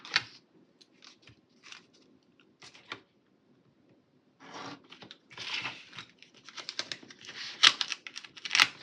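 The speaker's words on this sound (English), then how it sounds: "I'm gonna cut this one." Scissors snip through a planner sheet in short bursts of close, crisp cuts. Isolated snips with pauses give way to a faster run of overlapping cuts and paper rustling near the end.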